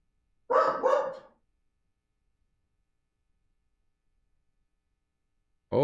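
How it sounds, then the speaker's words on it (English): A dog barks twice in quick succession, loud and close, early on, then the room goes quiet for several seconds before another sharp bark at the very end. "My dog is going nuts."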